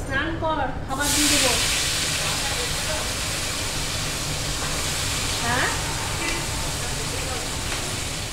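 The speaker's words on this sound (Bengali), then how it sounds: "এখন মাছগুলোকে ভেজে নিচ্ছি" Salted, turmeric-rubbed fish fries in hot mustard oil, a loud sustained sizzling hiss filling the whole stretch, with a brief voice at the start and a faint voice partway through.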